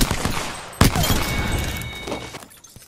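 Dense bursts of gunfire crackle and boom in the Apex video game, one sharp shot standing out amid a continuous barrage that fades toward the end.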